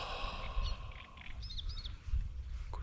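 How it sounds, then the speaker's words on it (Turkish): Faint bird chirps and short tweets drift over a steady low outdoor rumble by a lake, the calls sparse and distant. "Kuş sesleri."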